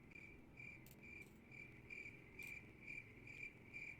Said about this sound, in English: there's a silence, and then followed by just nothing but just crickets